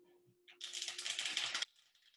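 A deck of tarot cards is shuffled once, a quick close riffling flutter lasting about a second, alone and fairly soft.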